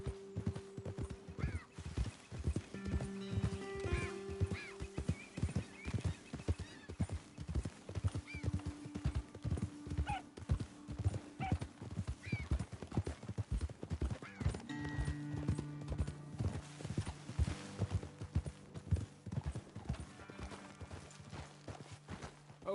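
Horses in the Red Dead Redemption 2 video game clip-clop steadily over ground near Beaver Hollow, with a whinny and soft sustained background tones beneath the rhythmic hoofbeats.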